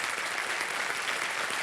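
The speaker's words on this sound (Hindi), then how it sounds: "जोरदार तालियां।" Steady, dense applause from a studio audience on a televised quiz show, loud and unbroken for its short length with no talk over it.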